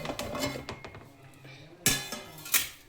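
Metal clanks and clinks as the lid of a cooking pot of simmering prawn gravy is handled, light rattles followed by two sharper metallic knocks, with a voice speaking softly underneath.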